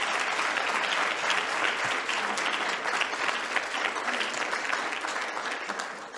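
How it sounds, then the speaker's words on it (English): Sustained applause for the district governor at a Rotary club meeting, full and steady from a seated crowd, tapering slightly at the end. "Another rousing applause for our district governor, please."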